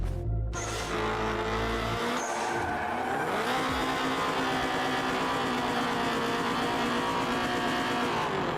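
A video game car engine revs loudly, then its tires squeal in a handbrake turn, a sustained screech over a continuous engine roar with no talk.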